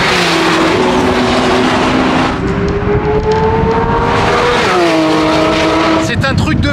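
Race cars at the Le Castellet circuit, loud engines droning and shifting pitch as they pass, with a sharp high revving burst at the end and people talking over the noise.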